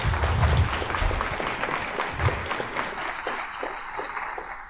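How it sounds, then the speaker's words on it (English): A lunchtime lecture audience gives a speaker another round of applause, brisk clapping that is loud and close at first and gradually thins, with a few low thumps early on. "let's give Melody another round of applause, ladies and gentlemen"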